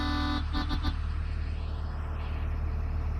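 A school bus sounds its air horn, one sustained blast followed by three short toots over a steady idling engine rumble, then the engine alone continues.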